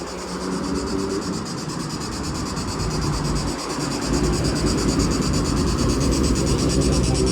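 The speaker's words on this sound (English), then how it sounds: "Wow, the noises of those crickets are so loud." Loud, continuous chirping of crickets at a cafe in Shkoder, Albania, a dense high pulsing drone that fills the whole stretch without a break.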